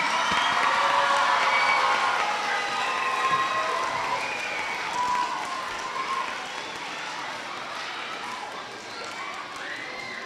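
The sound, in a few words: audience applause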